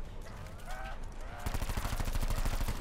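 Cordite automatic weapon firing in Black Ops 4 Zombies, a rapid burst of loud gunfire that starts partway through and continues steadily to the end, over game sounds and brief game voice tones.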